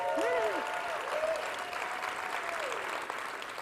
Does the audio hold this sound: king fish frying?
no